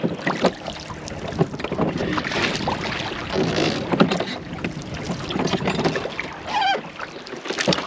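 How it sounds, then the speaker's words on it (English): Rowed dinghy nearing a coral-fringed landing in the Fiji islands, with oar strokes and water sloshing against the hull under steady wind buffeting the microphone. Splashes are loud and close, and no one speaks. "We are approaching the dinghy landing."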